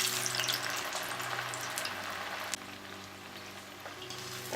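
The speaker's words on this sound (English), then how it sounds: "let's fry the next batch of Manchurian" A batch of veg Manchurian balls deep-frying in hot oil, giving a continuous fine bubbling sizzle, fairly quiet and steady, easing slightly partway through.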